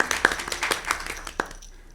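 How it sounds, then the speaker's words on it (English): Brief, scattered hand clapping from a meeting audience at a state advisory council on Indian education, a few sharp claps fading quickly toward near silence. "So give her a round of applause,"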